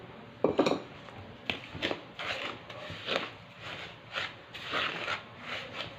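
Butter and sugar are creamed in a bowl for a chocolate cake, giving intermittent scraping clinks of a utensil against the bowl in irregular bursts, close and moderately loud with no talking.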